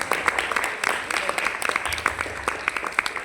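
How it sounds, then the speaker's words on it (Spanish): Audience applause after a cultural performance of a meditation-themed theatre piece, a few seconds of clapping from a small crowd with scattered individual claps and faint voices underneath. "Otro aplauso para este trabajo tan maravilloso"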